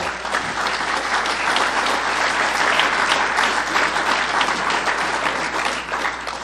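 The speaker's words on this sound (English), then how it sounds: "You're applauding for yourselves." Steady, dense applause from a large audience at a Narcotics Anonymous meeting, loud and sustained throughout with no pauses, a broad wash of many hands clapping together.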